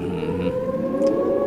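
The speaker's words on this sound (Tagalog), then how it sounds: "May sirena ang curfew." A civil defense style curfew siren wails steadily from a distance, a sustained tone with layered harmonics, holding level for the whole stretch with no talk over it, set within a Cebuano radio drama scene.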